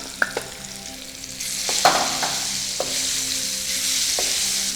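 Mango pieces sautéed in a pan for mango payasam: a gentle, steady sizzle with scattered spatula scrapes and clinks, growing a little louder partway through, close up and with no voices.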